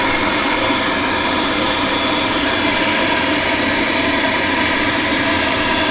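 A loud, steady roar from an aircraft engine at Southend Airport, continuous and close, with no pauses or voices.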